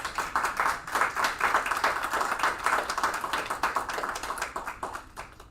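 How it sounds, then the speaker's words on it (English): Steady, enthusiastic applause from a school district board meeting crowd, many hands clapping densely and continuously for several seconds, fairly close and loud. "a round of applause"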